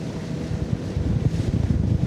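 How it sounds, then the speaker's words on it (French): Speedboat towing an inflatable ring out on choppy water, a low engine rumble blended with wind buffeting the microphone and waves, fairly distant and steady. "Un bateau de vitesse là-bas, ils font du... C'est de la bouée, je crois."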